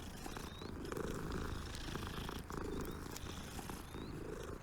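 A cat in the Hogwarts Legacy video game purrs in a low, continuous rumbling rhythm of rising and falling breaths, close and fairly soft, with faint game ambience behind it.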